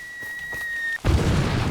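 A mortar shell bursts in Far Cry 2, a sudden loud boom breaking in after a steady high electronic tone and filling the rest of the moment with dense rumbling noise.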